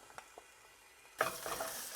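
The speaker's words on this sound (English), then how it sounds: "Garlic is sizzling the instant it got in." Chopped garlic hits about two tablespoons of hot oil and bursts into a sudden bright sizzle after a quiet start, crackling steadily and close up as the frying continues, with no voices.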